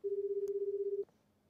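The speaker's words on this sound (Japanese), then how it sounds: "ケンさん、生存してるのか、繋がらないのか。" A single steady telephone ringback tone, loud and close, holds for about a second while a call is being placed, then cuts off into quiet line hiss.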